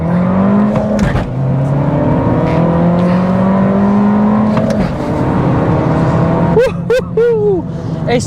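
An Abarth F595C accelerates hard from a standing start with a bit of wheel spin, its engine note climbing steadily through gears close and loud, ending in a brief squeal of tyres.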